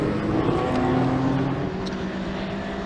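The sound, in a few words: touring cars roaring past on track, including a BMW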